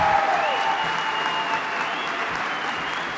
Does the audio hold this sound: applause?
yes